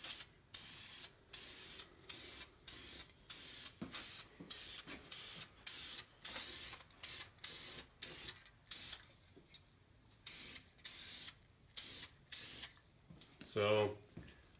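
Clear coat sprayed onto a wheel rim from an aerosol can in repeated short hissing bursts with brief pauses between them, close and steady, ending with a louder rattle near the end.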